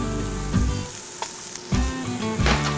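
Corn and mushrooms sauté in a hot pan with black pepper and kosher salt, giving a steady close sizzle with a few louder bursts of crackling, as if stirred, and no talking.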